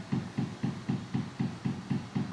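A washing machine running in a home, giving a steady rhythmic low churning thump that repeats about every quarter second at low level, with no speech.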